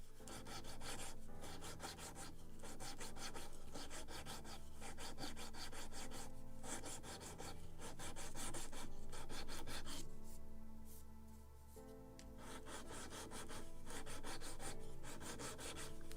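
A small wooden yard for a model kit of the 1776 gunboat Philadelphia is sanded by hand in close, continuous rubbing strokes with short pauses, no voices.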